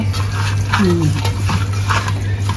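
Chicken coated in ginger-garlic paste and chicken masala gets stirred on a flat tava, spatula scraping in bursts over a steady sizzle and a constant low hum, with faint background noise.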